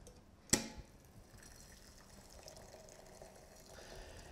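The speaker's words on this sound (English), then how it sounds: "Now we're simply going to add hot water and see how they extract." Hot water poured from a kettle onto coffee grounds in cupping bowls: a sharp clink at the start, then a steady, soft trickling pour that continues quietly and close by.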